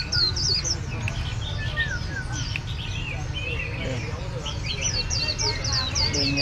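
Young birds chirp and tweet in quick, repeated high calls at a Hanoi bird market, continuous and fairly close over a low background hum of the street.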